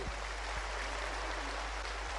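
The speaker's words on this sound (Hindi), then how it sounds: "ऐसा जोर से ताली बजा करके वादा ही" A large audience at a Brahma Kumaris gathering addressed by Prime Minister Narendra Modi gives a steady, distant wash of applause over a low hum, with no distinct individual claps.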